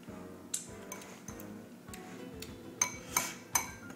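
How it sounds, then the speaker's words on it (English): A whisk clinks against a bowl while mixing an olive oil steak marinade, faint and close, with a string of irregular light metallic taps and scrapes. "Let's whisk a little bit more here."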